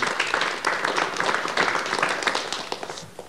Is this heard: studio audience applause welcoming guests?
yes